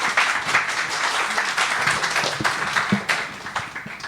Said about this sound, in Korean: 우리 박수로 맞이하도록 하겠습니다.